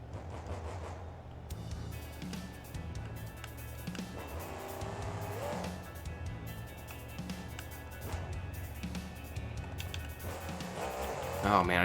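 Monster truck engine in the video game BeamNG.drive revs and bogs in uneven bursts, with clattering impacts and rising whines between, while a voice talks over it.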